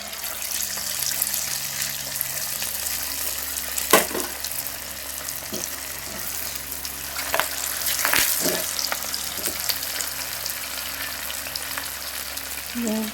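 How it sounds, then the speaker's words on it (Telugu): Chicken pakoda frying in hot oil, a continuous dense sizzle with a few sharp pops and spatters standing out, plus faint clatter of utensils nearby; nobody speaks. "ఇంకోసారి పేలుతాయండి ఇవి"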